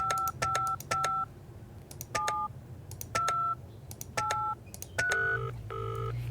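A phone number being dialed in the Penelope Pendrick video game: a series of clear keypad beeps, each a short two-tone press in an uneven rhythm, followed by a longer ringing tone at the end.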